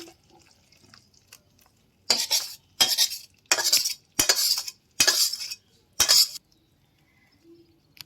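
A mango pickle mixture is emptied into a bowl that holds oil left from frying the mango, with six loud, scraping, clattering bursts close by and quiet gaps between them.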